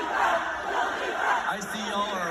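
A concert crowd chants, a dense roar of many voices rising and falling in rhythmic bursts, loud and close throughout.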